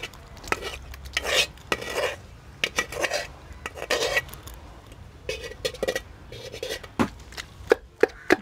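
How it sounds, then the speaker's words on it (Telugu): Tomato pieces pounded for chutney in a stone mortar give irregular, close thuds and gritty scraping strikes, several sharp knocks spaced unevenly over the whole stretch. "ఇది కూడా నలిగేలాగా దంచుకోవాలి"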